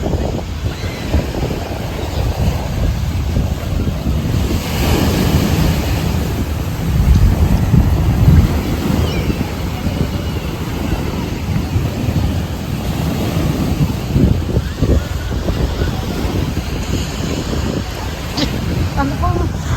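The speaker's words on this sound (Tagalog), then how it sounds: "simoy ng hangin" Steady sea breeze at a beach buffets the microphone with a constant rushing roar, waves washing beneath it and faint voices now and then.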